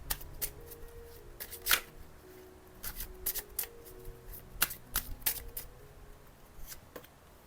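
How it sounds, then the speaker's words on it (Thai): Tarot cards are shuffled by hand in a quick series of crisp riffles and slaps, close and fairly quiet, with short pauses between bursts and no talk. "ขอดูไพ่บทสรุปค่ะ"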